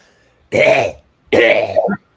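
A person imitates a cough, two rough, throaty bursts separated by a short pause, close and loud.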